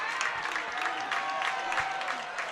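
Football fans at a high school game between Jasper and Boonville cheer and applaud in the stands, a steady wash of crowd noise and clapping heard from a distance, with no clear speech on top.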